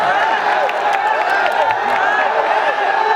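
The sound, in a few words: audience applause requested by host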